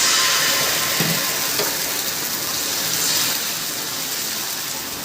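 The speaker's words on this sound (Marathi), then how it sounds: "पॅन तापत ठेवलेला आहे, आणि ते छानपैकी तापलेलं आहे पॅन, आणि छानपैकी थोडंसं तेल लावलेलं आहे पॅनला. थोडंसं तेल टाकते." Oil poured into a hot, lightly greased pan for making protein rotis gives off a steady, close hiss of sizzling that eases off slightly toward the end.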